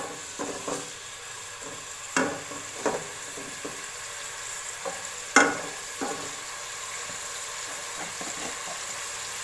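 Tomatoes frying in oil in a pan for dal gosht give a steady, soft sizzle, broken by occasional clicks and scrapes of stirring, close by with no talking.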